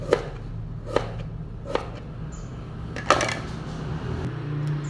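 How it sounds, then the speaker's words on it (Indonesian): A knife chops papaya pieces on a board in a few sharp, separate strikes about a second apart, over a steady low hum. "kita potong-potong semuanya dulu sebelum nanti kita cuci"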